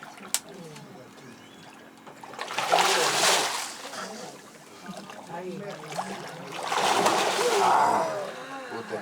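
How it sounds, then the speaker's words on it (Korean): A guide slaps and splashes river water in Costa Rica to lure an American crocodile, two surging bursts of churning splashes over a steady outdoor background. "가이드는 첨벙거리는 물소리로 악어를 유혹한다."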